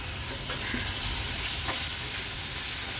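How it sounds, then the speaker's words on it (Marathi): Ground spice paste and finely chopped tomato sautéing in oil in a pan for a Jitada fish curry, a steady close sizzle with occasional stirring scrapes, no voices. "वाटण पण तेलावर छान परतून घेते"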